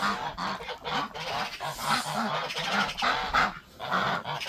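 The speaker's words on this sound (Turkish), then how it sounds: "3 tane küçük kaz yavrumuz var." Several geese, including goslings, honk repeatedly nearby, overlapping calls rising and falling in a noisy outdoor setting.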